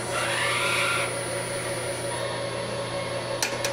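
Refill friction stir spot welding machine bonding aluminum, a steady mechanical whine with a high tonal hum and low drone running throughout, fairly close, with a brief rise near the start and a small clatter near the end.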